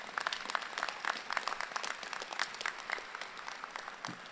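Graduates at a science and engineering college convocation applaud themselves with brisk, crisp clapping from a moderate crowd, the individual claps distinct and lively before gradually thinning toward the end.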